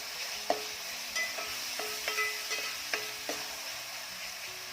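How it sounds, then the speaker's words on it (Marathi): Soaked lentils (dal) sautéing in oil in a pan for a fenugreek-leaf dish, a soft, steady sizzle with a series of light spoon scrapes and taps as they are stirred. "डाळ आधी तेलामध्ये चांगली परतून घ्यायची आहे"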